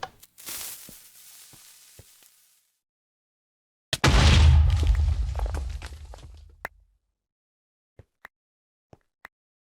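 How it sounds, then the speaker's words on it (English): A Minecraft explosion bursts out loud with a booming, crackling roar that fades over a couple of seconds, followed by a few sharp clicks. "I can go with something that calls for explosions"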